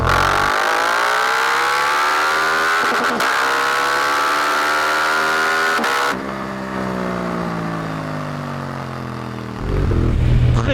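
A Suzuki GSX-8R motorcycle engine revs while riding, its pitch climbing loudly through the gears with brief breaks at the shifts, close and continuous with wind noise.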